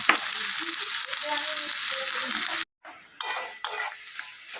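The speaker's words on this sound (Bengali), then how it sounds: "এবার এর মধ্যে পেঁয়াজটা দিয়ে দেব।" Onion sizzles in hot oil in a pan, a dense frying hiss with faint scraping and clinks. It drops out abruptly partway through, then returns as quieter bursts of sizzling and stirring.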